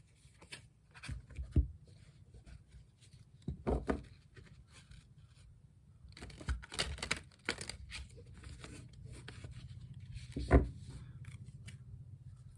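A deck of tarot cards shuffled by hand in several separate bursts of soft papery riffling and slapping, close and fairly quiet, with pauses between shuffles and no talking.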